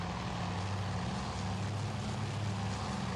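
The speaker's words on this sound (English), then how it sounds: "That's a dive bomber there." A dive bomber's propeller engine drones in the Task Force Admiral naval air game's Midway scenario, a steady, fairly faint buzzing hum heard from some distance with no breaks.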